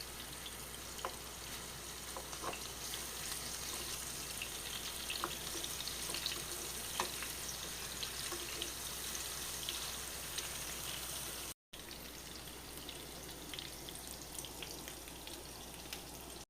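Pineapple pieces coated with chilli powder and salt sizzle and fry in a pan, a faint, steady crackle with scattered pops that runs continuously and cuts out for a moment near the end.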